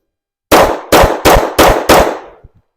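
Five sharp, loud 9mm pistol shots from a Shadow Systems MR920 at a shooting range, fired close together at an even, fairly quick pace. Each report rings out briefly before the next, and a couple of faint clinks follow.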